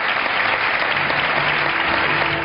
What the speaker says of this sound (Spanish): El aplauso que sus compañeros les brindan hoy